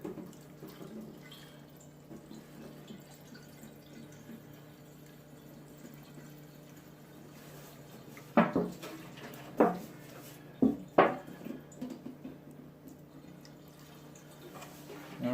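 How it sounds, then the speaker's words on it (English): Ozark Trail camp fuel is poured from a can into a portable heater: a faint, steady trickle with a low hum, broken near the end by a few sharp knocks and splashes. "when pouring, turn the can away from yourself with the spout top up"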